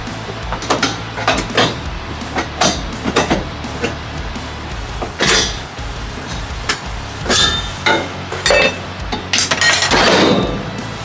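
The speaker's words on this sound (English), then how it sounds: "We're ready to drop this down now so we can complete the welds on the top of the roll cage" A welded metal roll cage is lowered onto a driveway, producing a series of loud metallic clanks and rattling knocks at irregular intervals, close by.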